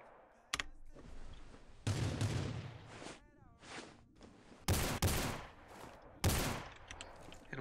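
Gunfire in the Rules of Survival battle royale game comes as several sharp, loud bursts spaced a second or so apart, with people talking quietly between the shots.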